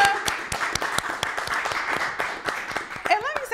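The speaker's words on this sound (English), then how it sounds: "Clap it up." Small studio applause for Earn Your Leisure guests on the Pour Minds podcast: steady, sharp hand claps from a few people nearby, with voices talking and cheering over them throughout.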